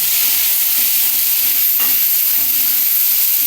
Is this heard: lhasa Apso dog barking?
no